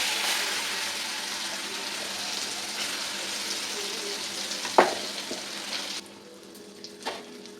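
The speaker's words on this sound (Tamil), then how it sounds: "இதை வந்து கொஞ்சம் இந்த எண்ணெயிலேயே நல்லா வதக்கிக்கலாம்" Ground coconut paste sautéing in hot oil with popped mustard seeds over a low flame, a loud broad hiss for about six seconds that then drops quieter, with a few knocks of a stirring spoon and no speech.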